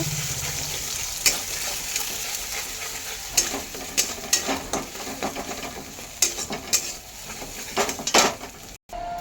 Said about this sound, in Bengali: দেখো ডিমটাকে ফ্রাই করে নিচ্ছি আমি। ডিমটা কড়াই দিয়ে দিচ্ছি, এখন ভালো করে ভেজে নেব।